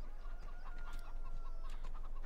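Chickens clucking on a farm in Farming Simulator 17, a string of short, repeated clucks and calls from several birds over a low steady hum, close and moderately loud.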